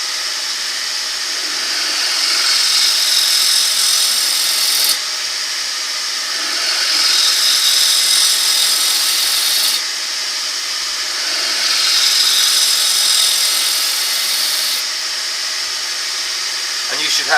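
A woodturning gouge cuts a wooden bowl spinning on a lathe, throwing off shavings: a bright, hissing, scraping sound in three or four smooth passes, each one swelling and then dropping off abruptly.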